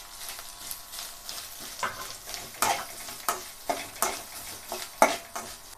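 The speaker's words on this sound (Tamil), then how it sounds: "எப்பயுமே நீங்கள் இந்த மாதிரி ஃப்ரை பண்ணும்போது கண்டிப்பாக சிம்மில் வச்சே பண்ணுங்கள்" Garlic, grated coconut and poppy seeds frying in a pan on low heat, a soft sizzle with repeated scraping stirs and a few sharper clicks of the spoon against the pan.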